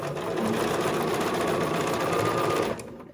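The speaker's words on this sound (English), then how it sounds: "Now I'm lining this up just about to the edge of my foot here, and I'm just gonna simply stitch." A sewing machine stitches an embroidered face mask, running as a loud, steady, close mechanical whir for nearly three seconds before stopping abruptly.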